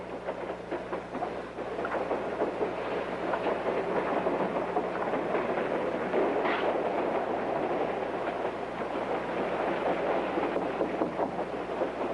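A train runs along the rails in a 1939 film scene, a constant loud rumbling roar with faint clatter from the wheels, no voices over it.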